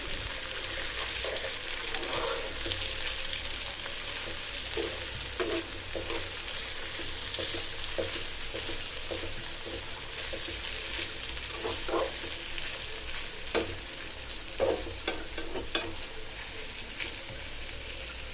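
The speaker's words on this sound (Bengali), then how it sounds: "ধনিয়া পাতা দিয়ে দিলাম, একটু নাড়িয়ে দিচ্ছি।" Potatoes frying with fish roe and coriander leaves sizzle steadily in a pan for the whole stretch, while a spoon stirs them with scattered soft scrapes and clinks, and no one speaks.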